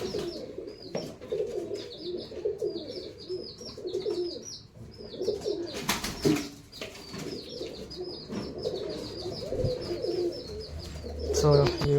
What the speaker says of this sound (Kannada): ಪಟ್ಟಗಳಿಗೆ ಕಡಲೆ ನಾನು ಹಾಕಿದ್ದೀನಿ, ಎಲ್ಲ ತಿಂದು ಮುಗಿಸ್ತಾ ಇದ್ದಾವೆ